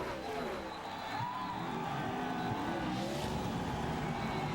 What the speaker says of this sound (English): Look at Harvick sliding sideways.